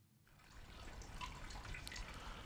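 Water splashing and trickling in a luxurious open-air bath in the video game Xenoblade Chronicles 2, a steady, continuous wash of liquid sound with small drips, fairly quiet and without talk.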